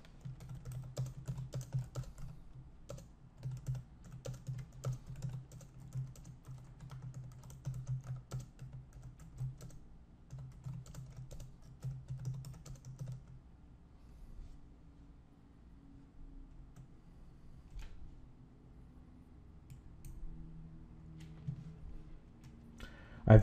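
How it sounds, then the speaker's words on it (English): Keys clatter on a computer keyboard as a message is typed, a quiet, close, irregular patter for roughly half the span that then thins out to sparse taps over low background hum. "a message to the customer can be typed into the memo field."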